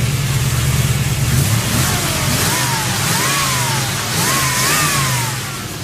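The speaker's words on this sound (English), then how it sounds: "Let's see how it does when it's revved slightly." An LT1 Camaro V8 engine revs up in several short, rising bursts over a steady rumble, each climb falling back before the next, as a coolant line blows off.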